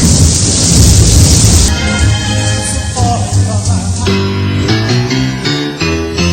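A burst of heavy rain hiss with a low thunder rumble, then music fades in and takes over for the rest.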